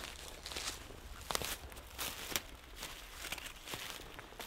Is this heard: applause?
no